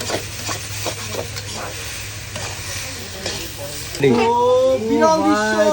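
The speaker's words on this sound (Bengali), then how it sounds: "দেখতে পাচ্ছেন নারকেলের দুধ এখন চলে গেল" Coconut milk poured into a hot pan of soybean chunks, giving a steady sizzling hiss that swells louder near the end as the liquid hits, with a voice speaking throughout over the cooking.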